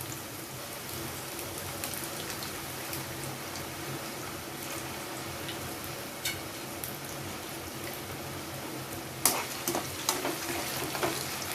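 Finely chopped potatoes frying in a pan for paneer veg biryani, a steady rain-like sizzle that holds throughout, with a few louder crackles and stirring scrapes near the end and no talk.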